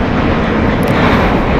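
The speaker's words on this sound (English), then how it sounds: "Departing here is JetBlue Airways flight 224 going to JFK." A five-year-old JetBlue Airbus A321 departs LAX for JFK, producing a loud, continuous broadband jet engine roar that stays steady and close throughout.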